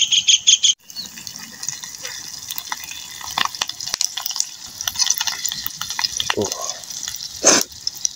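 Pandan leaves sizzle and crackle in hot oil, a steady, close frying hiss broken by occasional louder pops and stirring clatter, with a short burst of higher-pitched noise at the very start.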